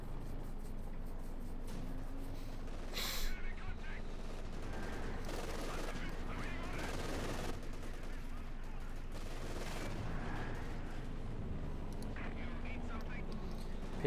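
Machine gun bursts and scattered gunfire in the Company of Heroes 2 video game, a World War II battle with artillery, rattling in the background under continuous commentary.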